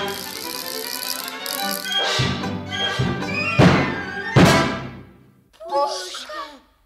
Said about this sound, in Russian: Заводная механическая игрушка.